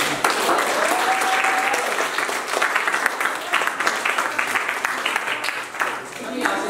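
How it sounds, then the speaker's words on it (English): A banquet audience at a girls' basketball celebration breaks into a sustained, loud round of applause that fills the room for several seconds, with voices and cheers mixed in. "how about a round of applause for you?"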